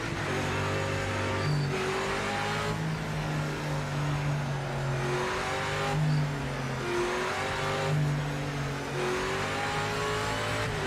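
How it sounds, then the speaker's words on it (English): A Cadillac race car's engine in the racing game Automobilista (AMS) drones and revs continuously, rising and falling through gear changes with a steady, loud tone and faint tire squeal. "I wish this car sounded better in AMS too"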